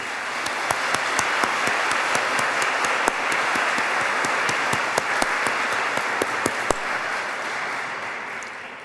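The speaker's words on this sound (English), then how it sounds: "please join me in a round of applause for the platform party." A commencement ceremony audience applauds the platform party, sustained dense clapping from a large crowd filling the hall, steady throughout with a few sharper individual claps standing out.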